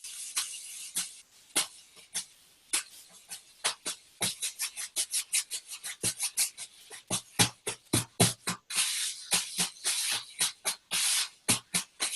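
Soft, hissy jazz drum brush strokes swish and tap horizontally on a practice pad in an uneven rhythm, growing denser and more regular toward the end.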